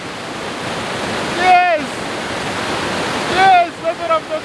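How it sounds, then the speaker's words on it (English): A waterfall deep in the valleys of Tigoni, Kenya: a steady loud rushing roar of falling water throughout, with a voice speaking briefly over it. "Deep in the valleys of Tigoni lies one of the more beautiful waterfalls you will see"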